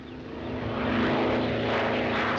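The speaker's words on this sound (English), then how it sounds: "That must be Mr. Griffith's plane" A crop-dusting propeller airplane spraying chemicals comes in, its engine a steady droning hum that swells slightly as it nears, with no talk over it.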